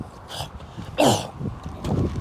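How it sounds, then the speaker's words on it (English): A man gives a few short, rough throat-clearing grunts in a row, one louder than the others, during a relaxed fishing podcast on Lake Guntersville. The throat noise is heard alone, with no speech over it. "They're hearing you clear your throat."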